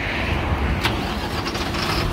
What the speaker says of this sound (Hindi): अभी ये घोड़ा स्टार्ट हो गया है